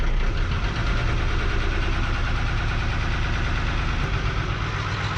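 A 1975 Chevy truck's 6BB1 diesel engine idles close and loud in cold weather, with a steady, rough knocking clatter that never lets up.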